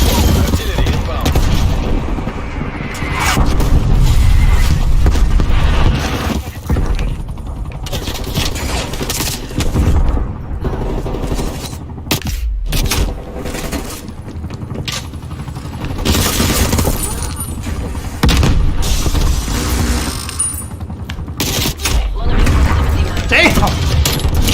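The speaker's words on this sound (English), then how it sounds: "Artillery inbound." Artillery strike in Black Ops Cold War: a string of heavy, booming explosions with crackling, shattering debris, rolling on loudly for over twenty seconds, mixed with gunfire and game voices.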